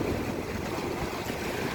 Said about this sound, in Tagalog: Tapos, hindi naman siya actually mataas na mataas, pero malakas yung agos ng ilog.